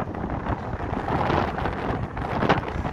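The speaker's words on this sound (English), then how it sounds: "It's windy, it's rainy, it's a gorgeous day." Gusty wind in rainy Blackpool buffets the microphone with a continuous rough roar that swells and dips, loud and close, with no voices.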